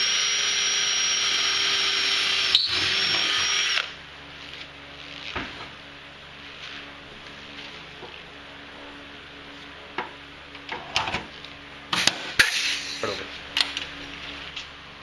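A power drill whirs steadily and close for several seconds, then stops, followed by scattered sharp clicks and snaps of rivets being set into a climbing board frame.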